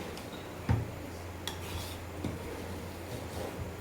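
A spoon stirs bagara rice that is sticking to the bottom of a pot, making a few faint scrapes and soft knocks spaced over a few seconds against a low steady hum.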